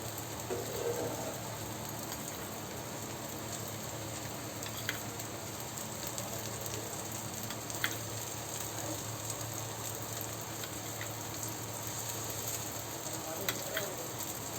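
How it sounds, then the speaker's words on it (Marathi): Rice flour dosa sizzling steadily on a hot pan as oil is poured around its edges, a continuous close frying hiss with faint scattered crackles and no talk. "आपण असं साईडून तेल सोडून घेऊया जेणेकरून ते लगेच निघेल"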